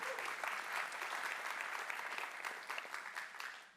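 Audience at a live event in NYC applauding, a steady wash of many hands clapping for several seconds before tapering off.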